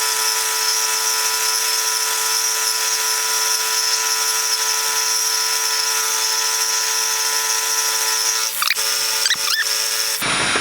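A milling machine with a vertical head conventional milling curved T-nuts on a rotary table, a steady high whine of the running cutter with a few brief scraping chirps near the end, close, no talking.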